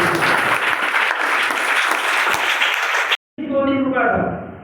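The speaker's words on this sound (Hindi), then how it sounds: "सर से जोरदार ताली हो" An audience at a health awareness program breaks into loud, sustained applause, a dense wash of clapping that cuts out briefly and then resumes before fading.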